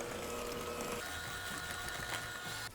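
Electric mixer creaming sourdough chocolate chip cookie dough, a dense, even whir with a faint mechanical rattle that runs steadily throughout and eases off at the very end.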